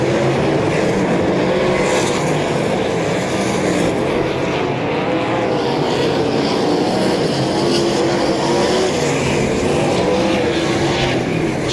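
Sprint cars race around the Heart O' Texas Speedway dirt track, a dense, loud, continuous engine roar with rising and falling pitch as the pack circles through lap traffic.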